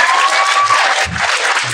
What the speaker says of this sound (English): Let's clap it up for B.Simone